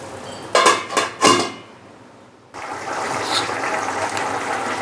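A covered pot of Bengali village-style taro curry with water, meant for hilsa fish head, gives a couple of sharp metallic clanks of the lid and pot. A short quiet follows, then a steady, rushing hiss of simmering that carries on to the end.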